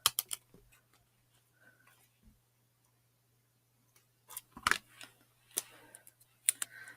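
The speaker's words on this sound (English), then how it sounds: "Gonna cut these edges off." Sharp snipping and crisp clicks of scissors trimming the edges off a folded paper card, a short close burst after a quiet stretch, with a few isolated snips earlier.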